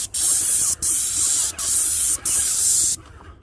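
A Vevor X6 airless paint sprayer blasts paint in four steady hissing passes, each cut by a brief pause as the trigger releases, loud and close with no talking.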